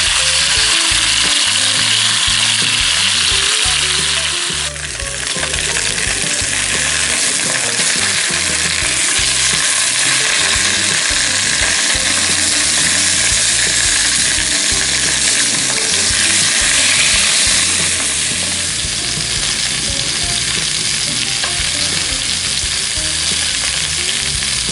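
Pheasant pieces brown in a 10-inch Dutch oven, a loud, steady, close sizzle of frying that runs without a break, with a brief scrape of turning partway through.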